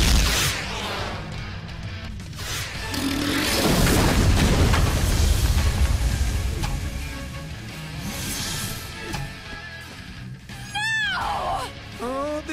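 A cartoon missile barrage in an animated battle: heavy, rumbling explosions pile up into a dense roar for several seconds, then fade, followed by a few sharper bursts and a whistling, warbling effect near the end.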